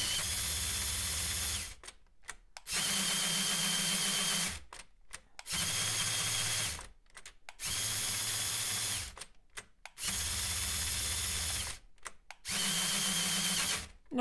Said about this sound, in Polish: I zobaczmy, czy zmiany biegów będą tutaj zmieniały prędkość obracania się tłoków.